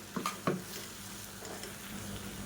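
A spoon stirs ground horse gram, coconut and toor dal paste into a sizzling sautéed sambar base, giving a couple of close scraping knocks against the pot over steady frying hiss.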